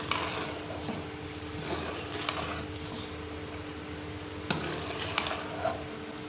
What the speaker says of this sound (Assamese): ইয়াত মই চেনি দি দিলোঁ এতিয়া, আৰু ভালদৰে লৰাই দিছোঁ।